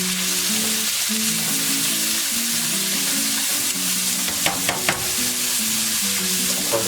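Vegetables fry for fried rice in a hot pan, giving a steady, loud, continuous sizzle. A few scraping stirs break through near the end, and no one speaks.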